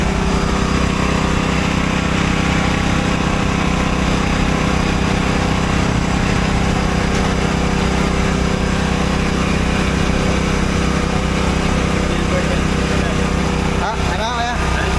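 A new silver generator engine runs steadily and loudly close by, a continuous mechanical drone with a constant hum throughout, with people talking faintly beneath it.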